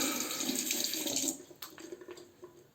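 Tap water streams steadily onto a Mühle Rocca razor for about a second and a half, then cuts off, leaving scattered drips and small splashes from the rinsed razor.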